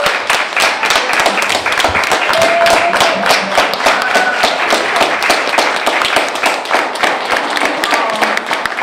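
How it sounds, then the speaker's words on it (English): Audience members at an art gallery event clap loudly and close by, individual hand claps standing out within a continuous round of applause, with a few cheers mixed in. "You all receive a round of applause"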